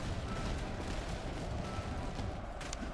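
Steady, dense rumble of massed artillery and gun fire from the Napoleonic battle game Master of Command, a continuous distant barrage with no pauses and no voices.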